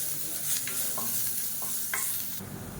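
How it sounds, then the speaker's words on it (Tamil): Crushed garlic fries in hot oil until crisp, a continuous close sizzle broken by brisk spatula strokes against the pan, with no voices. "இது நல்லா மொறுமொறுன்னு வறுத்துக்கலாம்"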